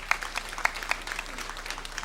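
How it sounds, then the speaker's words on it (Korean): Congregation applause during a Sunday church service, a soft, moderately distant patter of many hands clapping with a few sharper claps standing out. "하나님께 영광의 박수를 드립니다."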